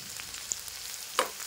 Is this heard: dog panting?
no